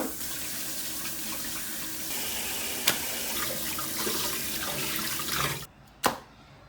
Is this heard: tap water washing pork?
yes